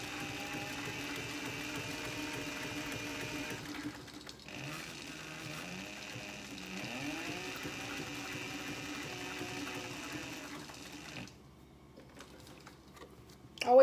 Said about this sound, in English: make sure that if you stop in the middle of sewing, make sure your needle's in the down position